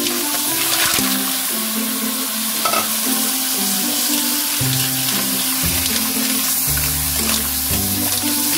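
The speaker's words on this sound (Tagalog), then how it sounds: "Saka siyempre lagay natin yung ating tahong" Mussels go into a hot pot for a Filipino green mussel tinola and sizzle loudly, with stirring and scraping and a steady frying hiss under background music, no talking.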